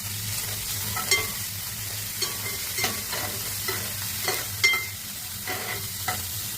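Chopped vegetables and coriander fry in a pan with salt and pepper for ragi soup, giving a steady close sizzle broken by soft scrapes and taps of stirring, with no voices.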